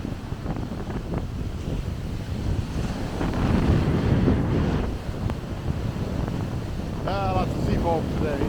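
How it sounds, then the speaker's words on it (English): Gusty wind buffets the microphone while waves surge and foam along a seashore on a rainy, windy day, with a steady roar throughout. "it's a windy, wavy day."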